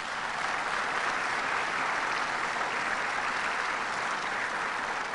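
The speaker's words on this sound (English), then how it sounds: "Let's give him another round of applause." Steady, sustained audience applause at a celebration of renovations at Rochester's ROC airport, a dense even wash of clapping filling the whole stretch with no voices over it.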